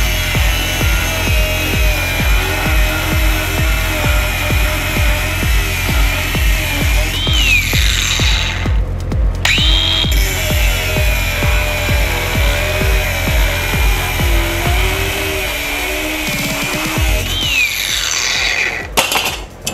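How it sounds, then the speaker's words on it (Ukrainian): A Stark CAG 1800 cordless angle grinder cuts a metal strip about 3 cm wide and 0.5 cm thick, giving a loud, steady high-pitched grinding whine that briefly breaks off twice before winding down. "Наскільки швидко вона відріже дану полоску?"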